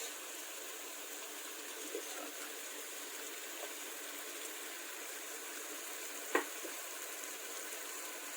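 Pre-cut tomatoes hit a hot pan for mutton curry and give a soft, steady sizzle and hiss, fairly quiet and continuous, with a few faint clicks of stirring.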